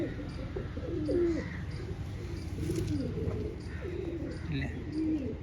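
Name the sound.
pigeons cooing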